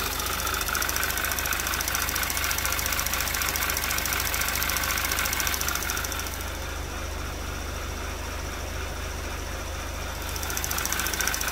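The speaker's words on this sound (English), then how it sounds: "Lifters are getting a little noisy." A 2011 Audi TT Quattro 2.0T TFSI engine with prior engine damage idles steadily with a rapid, constant ticking from noisy valve lifters running through it, loud and close.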